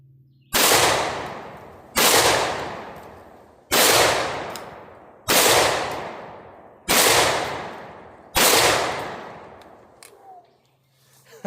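A MAC 10-style firearm fired in six separate bursts of rapid automatic fire, each burst sharp and loud at onset, then ringing and echoing away before the next, spaced roughly every one and a half seconds outdoors.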